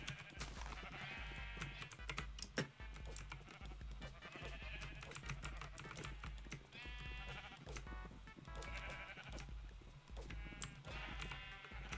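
Sheep in Minecraft bleat repeatedly while being dyed, short nasal calls recurring over steady music and game sounds, with clicking footsteps underneath and no talking.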